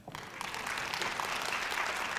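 Faint applause from the audience at a real estate brokerage startup seminar: a brief, soft patter of clapping that swells slightly over a couple of seconds.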